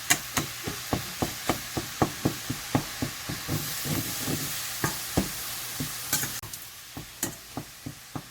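Sausage sizzling in a hot pan while a utensil breaks it up: a soft frying hiss beneath regular, sharp taps and scrapes against the pan, close with no speech.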